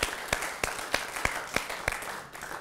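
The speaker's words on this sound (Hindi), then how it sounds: "एक बार जोरदार तालियां आपकी पहुंचे मंजू जी" Rhythmic unison clapping from an audience at a Hindi poetry gathering, about eight sharp claps at a steady beat, fairly faint over a low background hiss.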